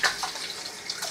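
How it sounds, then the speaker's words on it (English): Tap water runs steadily as hands are rinsed under it, a soft continuous splash at close range with brief brighter spurts as the flow is disturbed, no voices. "So let me rinse my hands off."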